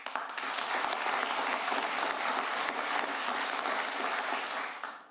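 Sustained, dense applause from a large audience at a presidential State of the Union address, loud and continuous for several seconds before tapering off at the end, with no voices over it.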